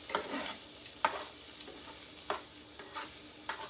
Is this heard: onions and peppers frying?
yes